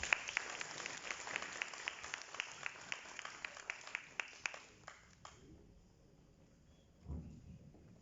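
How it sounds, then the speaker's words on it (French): An audience at an opening ceremony claps in a steady, fairly faint patter that thins out after about five seconds, followed by a brief low thump near the end. "Mesdames et messieurs, sous vos applaudissements,"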